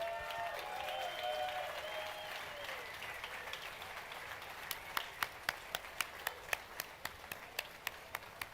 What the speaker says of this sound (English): And a big round of applause for Team Philippines.